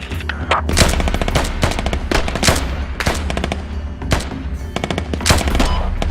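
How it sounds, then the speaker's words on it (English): Gunfire in the military shooter Squad, with loud rapid automatic bursts and single shots cracking close by in dense, continuous exchanges. "They're getting pretty accurate fire up on me."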